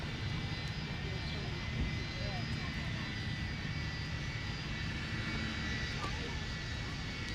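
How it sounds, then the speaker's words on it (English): Jet aircraft engines roar steadily at Minneapolis–Saint Paul airport, a continuous broadband rumble with a high whine held evenly throughout, fairly distant, while a person talks over it. "Listen to those engines."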